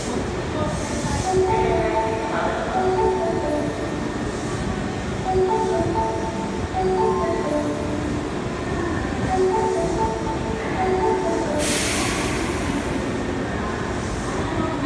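An Osaka Metro Sakaisuji Line subway train rumbles steadily along the platform with a low, continuous roar, faint tonal whines and a brief hiss near the end; muffled voices and a Japanese platform announcement sit underneath.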